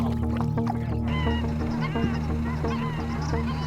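Pacific black ducks, known as parries, call with honking quacks over a steady outdoor background at a duck-hunting spot, several overlapping cries scattered through the clip at moderate distance.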